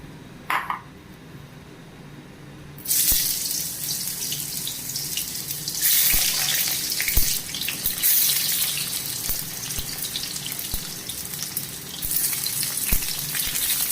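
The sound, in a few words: tinda (apple gourd) frying in hot oil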